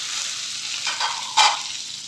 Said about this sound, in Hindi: तड़का चटक गया, अब इसी में हम डाल देंगे प्याज